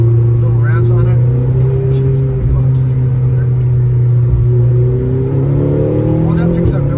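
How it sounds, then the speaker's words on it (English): McLaren GT engine heard from inside the cabin as it is revved on the road: a loud, steady low drone with tones that rise and sweep smoothly as revs climb, with brief faint ticks above. "Let's try a little revs on it."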